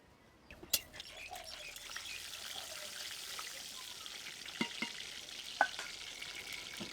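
Pieces of cinnamon stick, with bay leaves and cardamom, fry in hot oil for chana dal bhuna, giving a steady close sizzle broken by a few sharp pops and clinks.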